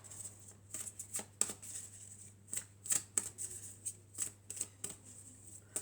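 Oracle cards shuffled by hand in a quiet room, giving a series of short, crisp riffling bursts and soft card slaps at an uneven rhythm, close and fairly faint over a low steady hum.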